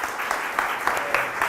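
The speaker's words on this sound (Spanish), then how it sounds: "Te damos la bienvenida con un fuerte aplauso." Audience applause welcoming a guest at an education conversation event, a steady wash of clapping with small swells, moderately loud and without talk.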